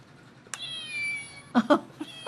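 A short electronic meow plays from a small cat camera, followed by a few more quick, bright cat-like chirps, close and fairly loud.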